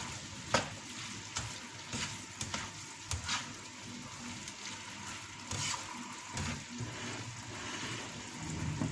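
Lasagne meat sauce stirred in a pan, a low sizzle under a string of spoon scrapes and knocks against the pan, moderately quiet and close, no voices.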